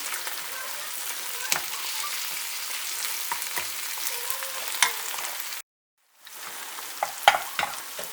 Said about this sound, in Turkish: karıştırırken şöyle soğanların üzerine kaşıkla basıyorum ki dış kabukları çıksın